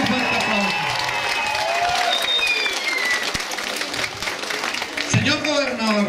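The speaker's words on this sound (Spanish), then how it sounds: "Démosle un fuerte aplauso" Loud applause from a crowd at a Sunday community gathering with speeches, dense clapping mixed with cheering and overlapping voices, sustained for several seconds with a whistle-like tone and shouts near the end.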